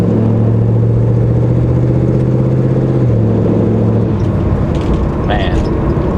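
A 1963 Ford Galaxie engine runs while warming up, a loud steady low rumble with a constant hum that shifts pitch partway through, rough mechanical texture throughout.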